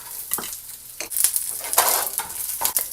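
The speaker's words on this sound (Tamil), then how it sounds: "இப்போ எண்ணெய் நல்லா சூடாயிருச்சுங்க. இதில் எல்லாத்தையும் போட்டுடலாங்க. இந்த கடலக்கொட்டையும் போட்டுடலாங்க." Peanuts and spices dropped into hot oil for a Tamil chutney, sizzling and crackling loudly with bursts of stirring and spoon scrapes against the pan.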